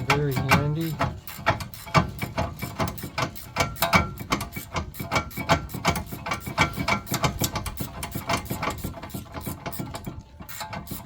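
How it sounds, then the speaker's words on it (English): Ratcheting wrench working a rear brake caliper bracket bolt on a 2016 Ford Flex, a rapid steady stream of close metallic clicks from the pawl that continues throughout. "I got my ratcheting wrench, which comes in very handy."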